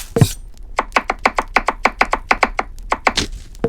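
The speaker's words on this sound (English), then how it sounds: "That's some good chopping." Onion, carrot and celery being chopped in a video game, a brisk run of about fifteen sharp, close knife taps on a board in an even rhythm, with no talk.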